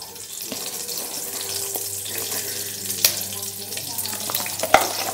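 Curry leaves hitting hot oil for tempering while making dudhi muthiya, a soft crackling sizzle with scattered sharp pops and clinks, close and steady, with no talking.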